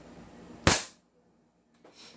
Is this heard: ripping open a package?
no